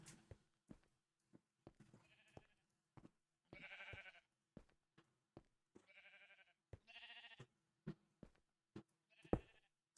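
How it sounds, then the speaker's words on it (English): Sheep in the Minecraft video game bleat repeatedly, several overlapping bleats from a crowded pen, mixed with sharp clicks and thuds from gameplay, fairly quiet overall. "I've moved like almost 64 sheep out of there"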